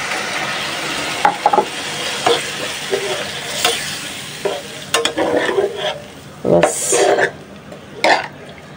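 Spiced hilsa curry with tomato sizzles in a pan as water is added, with loud intermittent bursts of hissing and spattering against a steady frying bed, punctuated by several stirring scrapes close by.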